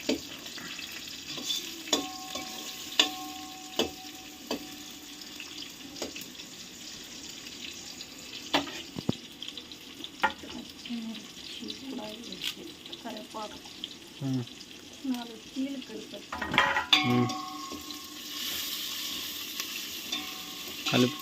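Rice pulao with tomato being stirred and fried in a pan, a steady low sizzle under repeated scraping and clinking of the spoon against the metal, with a brief splash of running water partway through.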